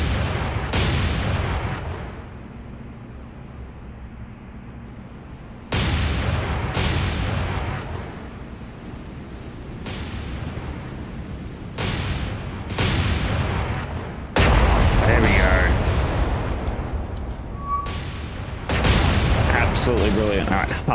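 Naval ship guns firing in War on the Sea, several heavy booming salvos spaced a few seconds apart, each ringing out over a rumbling background.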